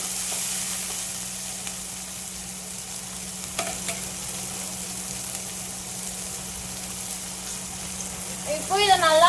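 Chopped onion sautés in a pan for soya gravy, giving a steady, soft sizzle with an occasional stir and a short clatter near the end, heard close without speech.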